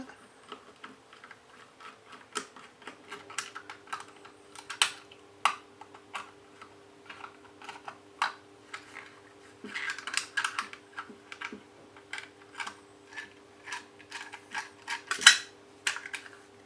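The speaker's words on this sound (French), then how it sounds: "On commence donc par retirer les vis de plaquettes." Small metallic clicks and ticks come as grip panel screws are unscrewed from a SIG Sauer P220 pistol, scattered irregular taps close by over a faint steady hum.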